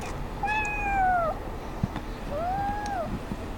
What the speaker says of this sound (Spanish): Y ese es el gato.